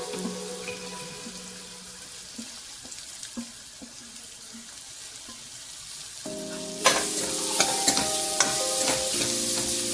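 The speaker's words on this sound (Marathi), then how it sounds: "आता कांदा लाल होईपर्यंत बारीक याचं 5 मिनिटं परतून घेते" Chopped onion frying in a pan, stirred with a utensil: soft sizzling with scattered scraping clicks, then louder, busier sizzle and clatter as stirring picks up near the end, with no talking.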